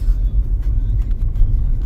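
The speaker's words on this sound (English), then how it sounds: "I'm in a traffic jam." Low, steady rumble of car traffic in a jam, heard from inside a vehicle, a dull continuous drone with no voices.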